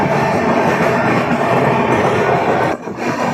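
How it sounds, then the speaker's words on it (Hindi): Kosi Express with new LHB coaches passing alongside a moving intercity train, a loud continuous rush and rumble of wheels close by, easing briefly near the end. "हमारी ट्रेन को पीछे करते हुए निकल रही है अपनी कोसी एक्सप्रेस।"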